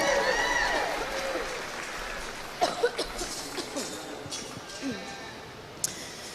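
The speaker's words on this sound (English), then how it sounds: "Please clap your hands for them." A crowd claps steadily at a moderate level for youth showmen at a county youth fair and livestock show, while a voice speaks over the applause, which thins out toward the end.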